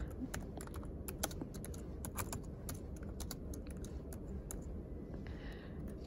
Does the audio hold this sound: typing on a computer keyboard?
yes